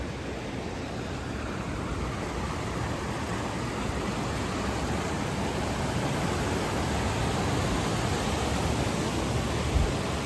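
A cold river on the Babel Peninsula rushes past in a dense, even broadband wash, close and steady for the whole stretch, with no voices.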